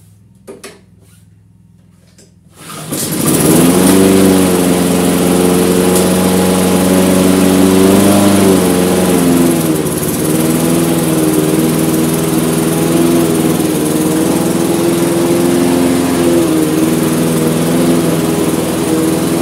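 A restored lawn mower salvaged from a dump, fitted with a new carburetor and air filter, is quiet for a few seconds before its small engine starts and settles into a loud, steady running drone.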